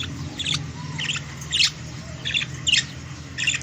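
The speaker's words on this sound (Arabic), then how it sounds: "ده صوت عصافير الكناري بتاعتي، ما شاء الله صوتهم جميل جدا" Short, sharp chirps from pet canaries at home come in about six quick bursts, evenly spread over a quiet background hum, close by and with no voices present.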